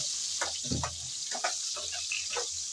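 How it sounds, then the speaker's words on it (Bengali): Potato pieces go into oil left from frying cauliflower, a low steady sizzle broken by a burst of bubbling and several short scrapes and clatters as they are moved about, quiet overall. "এখন ফুলকপি ভাজার তেলে আলুগুলো ভেজে নেব।"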